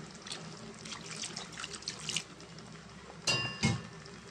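Water is poured from a vessel into a pan of fish curry, a short splashy gush near the end after a quiet stretch of faint kitchen sounds, with no talking.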